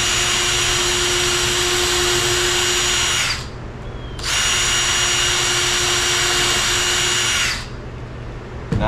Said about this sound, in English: And then we'll go ahead and drill some holes.